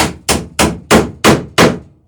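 Six evenly spaced, sharp hammer blows driving a nail into wooden boat planking while building a small wooden boat, close and loud, each strike ringing briefly before the next.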